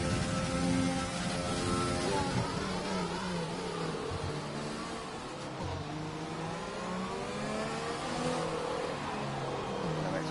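Ferrari race car on a fast lap in an ASR racing event in Vietnam, engine droning steadily with shifting pitch under a thick, constant wash of noise, fairly distant and no clear talk.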